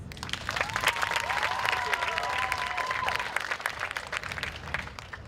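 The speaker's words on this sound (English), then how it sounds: "Let's give him one more round of applause." A crowd applauds at a high school commencement ceremony held at Delaware State University, with steady clapping and a brief cheer or whistle rising over it before the applause begins to fade.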